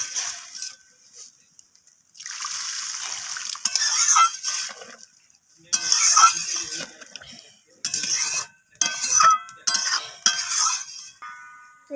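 Water poured into a pot of thin fish curry with potato and aubergine, several bursts of splashing and stirring with clinks of a utensil against the pot, close and fairly loud, with short pauses between pours.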